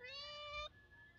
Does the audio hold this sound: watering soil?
no